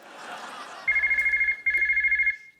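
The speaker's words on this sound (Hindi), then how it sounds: "ओ मम्मी का फोन।" A telephone rings loudly in two electronic trilling bursts separated by a short gap, following quiet background chatter.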